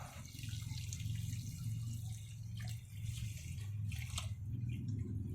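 Water pours in a continuous splashing stream onto soil in a bucket, steady and close, with a low hum beneath it.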